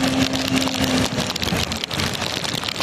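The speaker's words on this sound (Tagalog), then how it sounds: "Ang lakas ng hangin. Ang lakas ng ulan." Heavy rain pours down steadily, a dense continuous roar with a brief low hum early on, no voices.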